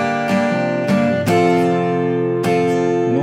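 A guitar plays the chord riff of a song, loud and close, with strummed chords sounding in a syncopated rhythm and ringing between strokes, no voice.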